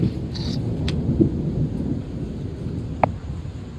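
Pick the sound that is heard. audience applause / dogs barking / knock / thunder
thunder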